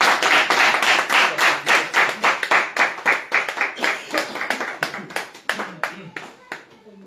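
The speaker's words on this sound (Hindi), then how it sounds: "और जोरदार ताली के साथ।" A church congregation in Hoshiyarpur, Punjab claps loudly in a fast, rhythmic unison beat, sharp distinct claps that hold steady for several seconds and then thin out toward the end.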